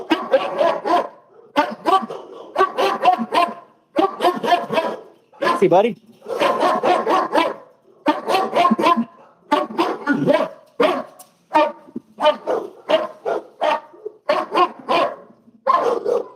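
A fierce, aggressive dog barks repeatedly at close range in rapid bursts, the loud barks running almost continuously under and between a man's spoken remarks.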